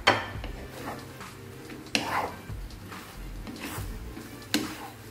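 Fried pork is stirred into sweet and sour sauce in a pan, with scattered utensil clinks and scraping knocks over a low background hum.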